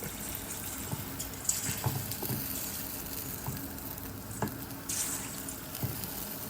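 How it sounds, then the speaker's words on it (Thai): Steady oily sizzling of egg frying in hot oil in a pan, with occasional clicks and scrapes of a utensil, close and continuous with no talking. "พอน้ำมันร้อนใช่ไหมครับก็ เทไข่ลงไปฮะ"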